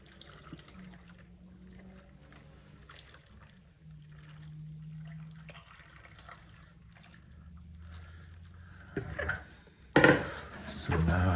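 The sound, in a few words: pouring water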